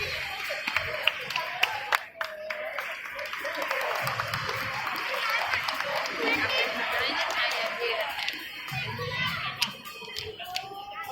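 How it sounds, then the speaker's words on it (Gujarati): A crowd applauds at the Dashnam Goswami Samaj educational prize ceremony in Surat, with sustained dense clapping that swells and holds, and voices mixed underneath. "બાપુ જોરદાર તાળી બોલાવી લેજો."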